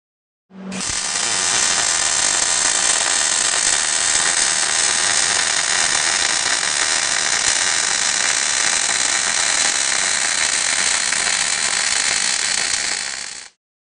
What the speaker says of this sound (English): For a typical butt weld or flat position weld, your gun should be at 90 degrees to your workpiece and 10 degrees tilted back